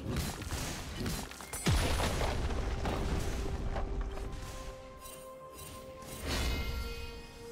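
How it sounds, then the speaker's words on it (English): A turret explodes in League of Legends during a Garen versus Yone top-lane match: a heavy booming blast with crashing debris and game effects rumbling on afterward, with no talk. "Red team's turret has been destroyed."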